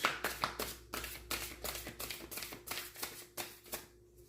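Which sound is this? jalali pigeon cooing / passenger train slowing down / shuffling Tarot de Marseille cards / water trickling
shuffling Tarot de Marseille cards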